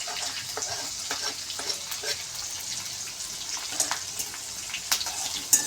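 Garlic, ginger and chillies frying in oil for pasta, a close, steady hiss and crackle with bright spits and a few stirring clicks, no talking over it.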